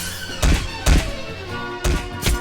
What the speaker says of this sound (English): Oh, I just got sliced by that knife.